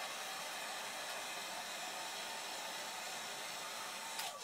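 A heat gun blows on the broken glass screen of an iPad 3, a steady airy hiss like a hair dryer running close and unbroken, ending with a brief click.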